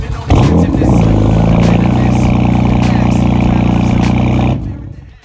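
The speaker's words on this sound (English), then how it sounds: "it has the AWE Performance exhaust on it. It sounds amazing. Listen to this." A 2018 BMW M4 with an AWE Performance exhaust revs hard with a deep, loud exhaust roar, holds high for several seconds, then cuts off abruptly.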